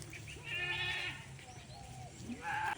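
A goat bleats while giving birth on a farm, a few drawn-out, wavering cries close by, separated by short pauses, with faint background noise.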